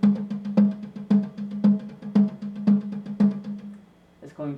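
Drum struck fast with alternating hand strokes, each main hit followed by lighter quick strokes in a steady driving rhythm, close and clear before it fades out at the end.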